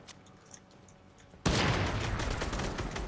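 Video game gunfire, quiet at first, then a sudden loud burst of sustained rapid shooting that continues to the end.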